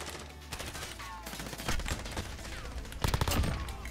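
Hip-fired gunfire in the video game Call of Duty Black Ops Cold War, a busy run of rapid shots and bursts with louder volleys near the end, heard alone without talk.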